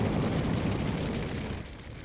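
A forest wildfire roars as a dense, continuous rumbling wall of noise close around, loud throughout and easing slightly at the end.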